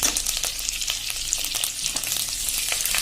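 Dried red chillies and curry leaves crackle and sizzle steadily in hot oil, a dense close-up frying hiss with scattered pops running unbroken throughout.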